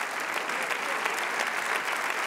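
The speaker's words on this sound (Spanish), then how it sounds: "Si ese aplauso es para el Rey de Reyes" A church congregation claps together in a thick, continuous burst of applause, even and full throughout this short stretch, with no speech rising above it.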